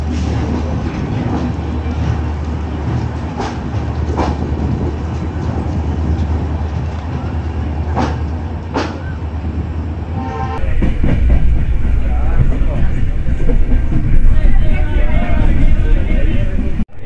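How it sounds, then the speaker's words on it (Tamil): Yesvantpur to Mangalore Express train departs, with a steady loud rumble and clickety-clack of railcars close by, growing heavier and rougher in the last few seconds; no clear speech. "இதுக்கப்புறம் நம்ம ட்ரெயின் கிளம்ப வேண்டியது தான்."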